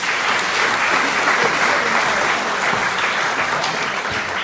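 A crowd at a university hypnotist show applauds steadily, a dense, even wash of clapping at moderate distance that holds without a break for several seconds.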